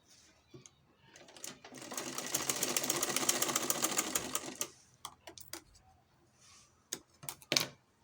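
A sewing machine runs a quarter-inch seam attaching a pocket to the front of shorts, a fast, steady mechanical whir of stitching for about three seconds, followed by scattered clicks and handling noises of the fabric.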